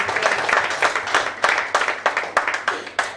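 A quiz contest audience gives a short burst of applause, a moderately loud run of dense claps lasting a few seconds with no talking over it.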